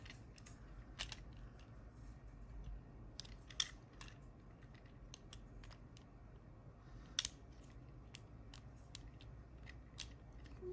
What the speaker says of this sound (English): then we line up his legs and click them together